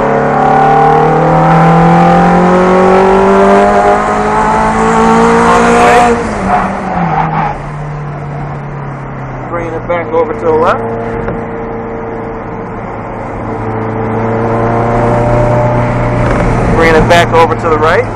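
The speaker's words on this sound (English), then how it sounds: "Rolling on power as we go down the street" A side-by-side vehicle accelerates down a street, its engine revving up loudly through rising pitches, easing off and building again, with occasional rattles and a voice talking over the drive.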